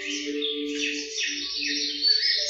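Birds in a flowery landscape, bright chirping and warbling calls running continuously over a low steady tone, fairly close and clear with no talk.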